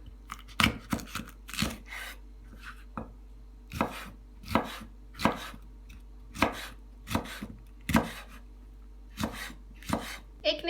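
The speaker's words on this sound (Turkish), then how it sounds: "Çekirdeklerini çıkardığımız kırmızı biberi de birkaç yerinden çizikler atıp ince ince kıyalım." A knife chops a deseeded red bell pepper finely on a board, with sharp, close taps that come in uneven bursts and short pauses. The chopping plays alone, without talk.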